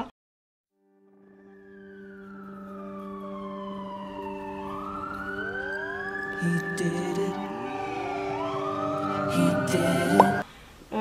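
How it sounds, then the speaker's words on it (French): Wailing emergency sirens at the opening of a song, several rising and falling tones overlapping and building louder over about ten seconds, with no one talking. "ça commence avec des sirènes, des gyrophares, etc."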